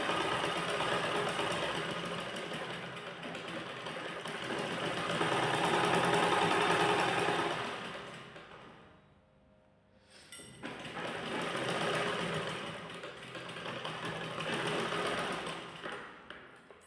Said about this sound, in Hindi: यहाँ से इस तरह से सिलाई लगा देंगे अंदर की तरफ